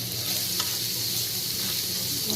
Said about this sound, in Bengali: তেলটা গরম হলে তাতে একটু রসুন দিলাম।